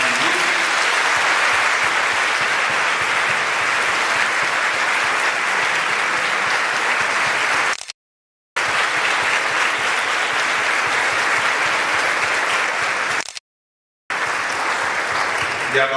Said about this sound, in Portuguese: uma salva de palmas para os nossos ministros